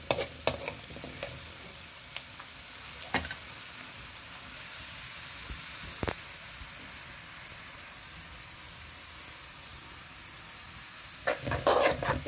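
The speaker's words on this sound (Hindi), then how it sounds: "प्याज का कलर चेंज होने तक हम इसे फ्राई करेंगे।" Onions frying in a pan for dhaba-style sev bhaji, a low steady hiss and sizzle with occasional clicks of a spoon, growing busier with bursts of crackling at the end.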